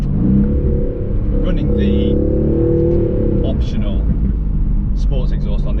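A 2021 Aston Martin Vantage with the optional quad sports exhaust rumbles loudly and revs up close, a deep, continuous engine roar that swells and changes pitch, with a voice talking over it.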